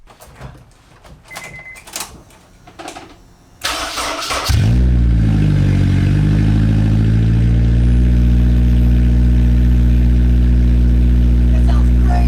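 A Honda S2000 with no exhaust fitted cranks and fires up after some shuffling and door noise, then idles loud, raw and close for several seconds with a steady, harsh drone.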